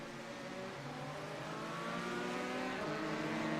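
A Corvette Trans Am race car at Mount Panorama on its final laps, its engine note rising in pitch through a long high-speed run, heard at a distance, continuous and fairly faint.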